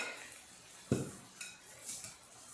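Faint clinks of a whisk or spoon against a bowl while Bisquick, egg and milk are mixed, a few scattered light taps over quiet room tone with no talk.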